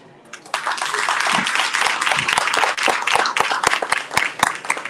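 An audience at a family financial empowerment summit breaks into applause, rising quickly from quiet into dense, sustained clapping that stays loud and close, with some distinct individual claps standing out toward the end.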